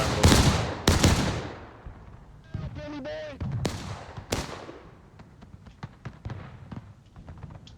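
Civil War video game artillery battery firing cannon shots: several sharp, loud booms with long decaying tails, spaced irregularly and heard alongside scattered distant pops.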